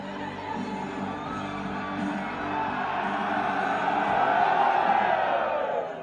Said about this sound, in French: 3, 2, 1, ils vont gueuler.